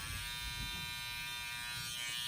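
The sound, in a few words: electric hair clipper trimming a haircut line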